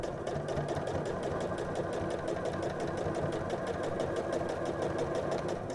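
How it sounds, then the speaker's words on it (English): A sewing machine runs steadily while topstitching fabric, giving an even, rapid mechanical hum and clatter at constant speed, close and moderately loud, with no talk. "Then when you're sewing your second wider row of top stitching, you can line up the first row of stitching with the edge of your presser foot and use that as a guide."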